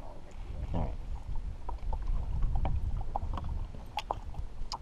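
Canoe or kayak paddling on a pond, with low water sloshing and rumble beneath intermittent faint knocks and splashes, steady and close, with wind buffeting the microphone.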